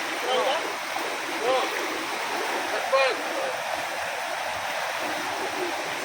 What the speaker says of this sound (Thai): ดูแล้วน้ำไหลแรง